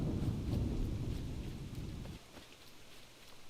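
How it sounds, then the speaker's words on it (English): Thunderstorm in the video game Assassin's Creed III: a heavy, dense wash of rain and rumbling thunder that dominates the first two seconds, then drops abruptly to a quieter steady rain patter with a low hum. "Can't really see much right now with the fucking thunderstorm going on"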